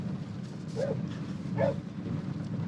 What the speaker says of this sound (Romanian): Mamă, alt câine.